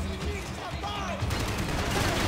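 Enemy gunfire erupts in the Max Payne 3 video game, a dense, continuous fusillade of shots with swooshing effects and a speaking voice mixed in throughout.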